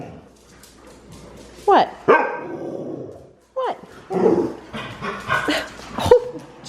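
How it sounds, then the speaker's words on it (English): An elderly 11-year-old dog barks in a few sharp, loud bursts, with people talking and calling out around it. "It's our elderly 11-year-old dog."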